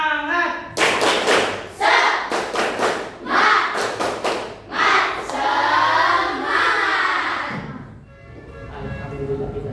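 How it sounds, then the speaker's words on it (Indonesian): A classroom of students performs the 'tepuk semangat' spirit clap, a loud group pattern of rhythmic claps and thumps in bursts, with chanted voices joining in between. "Tepuk semangat."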